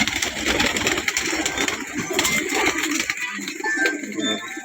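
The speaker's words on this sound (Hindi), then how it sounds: "मलवाई कबूतर है, सफ़ेद आंख का, बहुत ही अच्छा कबूतर है मेरे भाई।" Punjabi Malwai pigeons with white eyes coo close by in a loft, with soft repeated coos among shuffling and background clatter.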